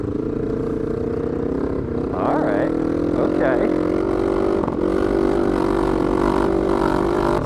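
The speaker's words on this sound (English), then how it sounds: "This motorcycle sounds so bad. It literally sounds like it's dying." Suzuki GSX-250 motorcycle engine running off road on sandy terrain, a rough, sputtering mid-pitched drone that rises with revving, close and steady throughout, with someone speaking briefly over it.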